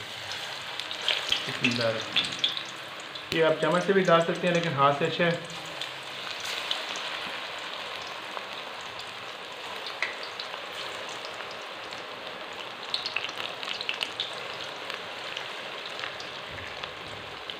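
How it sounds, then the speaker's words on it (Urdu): Small pakoras frying in hot ghee give a steady, close crackling sizzle that runs the whole way through, and a voice talks over it near the start. "گھی گرم ہو چکے ہیں اب اس کے اندر ہم ڈالیں گے پکوڑے چھوٹے چھوٹے"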